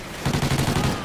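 Video game gunfire in a fast automatic burst, close and loud, with about eight rapid shots in quick rhythmic succession.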